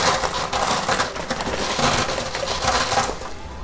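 Coins pour steadily into a high limit coin pusher machine, a dense continuous metallic clinking and jingling, loud and close with no talk.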